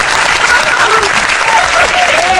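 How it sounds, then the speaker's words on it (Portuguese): Loud, close applause from a small audience at a retrocomputing podcast recording, a thick unbroken patter of clapping with faint voices mixed in. "Mais palmas"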